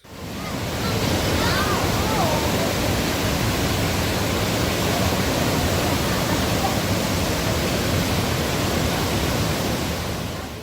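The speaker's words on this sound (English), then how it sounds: "The roar of the water as it goes by is incredible." Rapids downriver from Niagara Falls roar in a dense, unbroken wash of rushing water, loud and constant from start to finish with no pauses.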